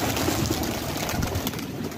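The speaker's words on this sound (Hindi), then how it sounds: "ये देखें उड़ चुके हैं कबूतर" Pigeons take off together outdoors, a steady rush of flapping wings with soft cooing mixed in, close and fairly loud throughout without a pause.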